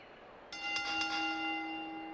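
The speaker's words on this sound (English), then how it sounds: "And the bell is rung." A wrestling ring bell rings three quick times, a bright metallic clang followed by a long ringing tone that fades over an arena crowd's steady murmur.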